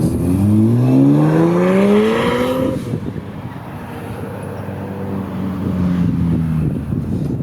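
A tuned 486bhp E82 BMW 135i coupe accelerating hard, engine note rising steeply through the revs, loud and close with wind rush, then easing off to a lower drone before building again.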